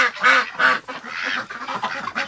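Muscovy ducks in a barn on a frigid, windy day make close, loud, raspy calls in a quick, uneven series of short bursts.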